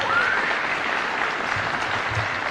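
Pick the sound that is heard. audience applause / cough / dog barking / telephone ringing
audience applause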